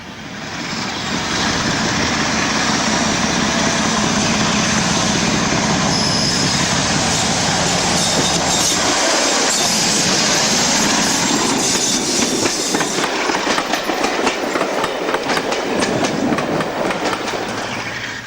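A Class 45 diesel locomotive train passing at Darley Dale, a loud continuous roar with clattering wheels and rail noise that builds and changes as the cars roll by, rhythmic clicking growing toward the end; no voices.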